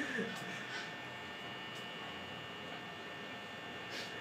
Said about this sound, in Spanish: Si escuchas así como una interferencia, no es el micrófono ni nada, es el juego que tiene ese sonido.